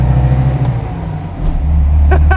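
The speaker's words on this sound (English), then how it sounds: "I'm merging and I'm foot down, Tommy." A classic VW Type 3 accelerating at full throttle while merging, its engine droning loudly and steadily up through the gears with a brief dip before rising again, heard from inside the car.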